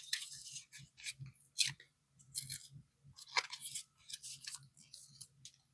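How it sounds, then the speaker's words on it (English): A disc-bound half-letter work planner's packaging is ripped open by hand in a run of close, crisp tearing and crinkling bursts, irregular and start-stop, with no talking. "Just rip it until something works or it opens."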